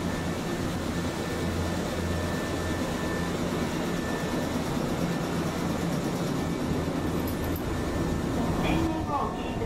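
Medetai Densha "Kai" sightseeing train running the short Wakayamako Line, heard from inside as a steady, loud low rumble of wheels and motors that stays constant throughout.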